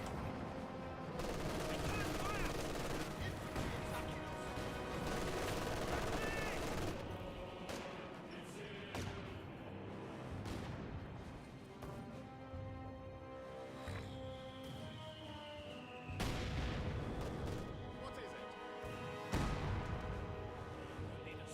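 Battle sounds from the game Company of Heroes 2 crackle at a low volume: bursts of gunfire and heavy mortar blasts in dense, overlapping waves, mixed under a commentator's voice.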